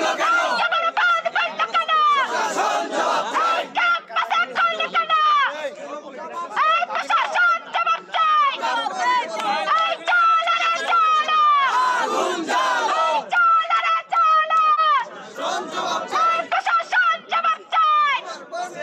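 Protesting students at a Jahangirnagar University blockade chant slogans in unison, a dense crowd of raised voices rising and falling in rhythmic call-and-response, loud and continuous throughout.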